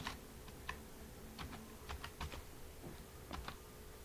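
Name being typed on a computer keyboard into an Excel spreadsheet, scattered light key clicks in short bursts, faint and close, over a low steady hum.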